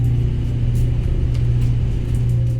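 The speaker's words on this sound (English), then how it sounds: "So if you're sitting near the power car of a Class 231," Steady diesel engine drone heard inside a Class 231 Flirt train carriage seated near the power car, a continuous low hum and rumble with no talk.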